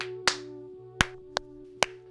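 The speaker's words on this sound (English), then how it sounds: "I sync up all the audio using the trusty clap I do in nearly every single clip." Four sharp, isolated hand claps ring out close to the microphone at uneven intervals over a low steady hum, each followed by a brief decay.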